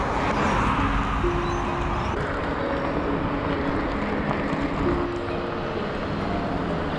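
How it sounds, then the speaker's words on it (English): Cars roll past one after another on a wet, rainy street, a continuous broad hiss of tires on water with a low traffic rumble rising and falling, heard fairly close with no talk. "Oh, it's never ending. The cars keep on coming."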